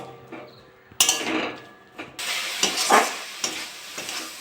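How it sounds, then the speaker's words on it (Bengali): Coconut and jaggery with a splash of water and bay leaves are stirred in a wok, the spoon scraping and swishing in several close, uneven strokes over a soft simmering sizzle, with no talking. "কড়াতে আমি নারকেল দিয়ে দেবো গুড় দিয়ে দেবো আপনারা মিষ্টিটা যেরকম খাবেন সেরকম দেবেন একটু জল দিয়ে দেবো দুটো তেজপাতা দিয়ে দেবো নেড়ে চেড়ে ভালো করে মিশিয়ে দেবো"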